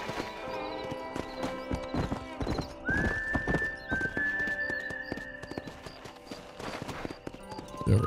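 Horse hooves clip-clop steadily through a Red Dead Redemption game scene, mixed with game music and ambient effects, a whinny-like tone sustained partway through, while someone talks over it.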